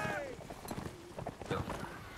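Horse hooves clatter in the video game Napoleonic Wars, quick clip-clop beats mixed under someone talking, with other battle noise around.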